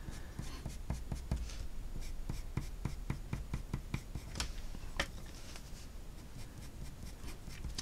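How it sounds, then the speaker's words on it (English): A Staedtler Mars Lumograph Black pencil scratches across paper in quick, close strokes of cross-hatching, a dense run of short dry scrapes that stays faint and steady throughout. "So one thing these pencils are really good for is drawing, but with cross hatching as well"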